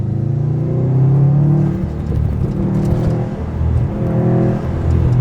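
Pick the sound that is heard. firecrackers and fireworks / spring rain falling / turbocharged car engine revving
turbocharged car engine revving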